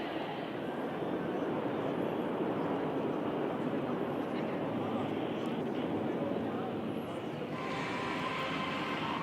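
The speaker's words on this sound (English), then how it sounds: "And there goes the leader pulling up with his wingmen." Indian Air Force aircraft pull up in formation over Chennai's Marina beach air show, a loud, steady broadband jet roar that fills the whole stretch, with a voice talking over it.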